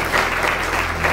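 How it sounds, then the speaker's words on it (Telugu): A church congregation claps together during a Telugu sermon, a full, steady wash of applause from a room of people, lasting without pause and carrying no talk over it. "చప్పట్లు కొట్టి ప్రభువు నామమున మహిమపడుగా."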